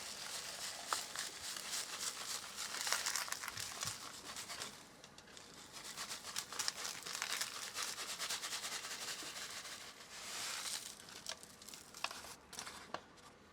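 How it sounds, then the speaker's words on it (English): A zippered paper, mylar and aluminum paydirt bag being handled up close, with soft crinkling, rubbing and scraping bursts that come and go over several seconds, fairly quiet and without speech. "Zipper, paper, mylar, aluminum kind of bag."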